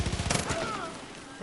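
Gunfire in Far Cry New Dawn, a quick volley of sharp rapid shots in the first half second, followed by fading echo and some background sound.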